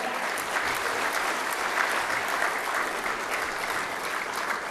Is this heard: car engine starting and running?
no